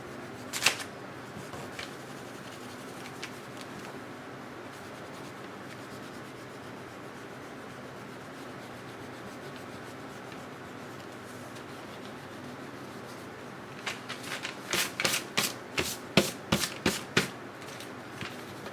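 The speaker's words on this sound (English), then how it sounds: "Gonna erase all these pencil lines." An eraser rubbing out pencil lines on drawing paper, a faint steady scrubbing at first, then a run of quick, louder back-and-forth strokes near the end.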